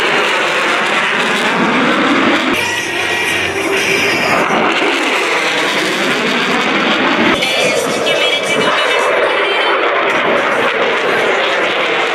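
Aircraft engine warms up at an air show, a loud, broad roaring drone close by with shifting tones and occasional surges, continuous across the whole stretch.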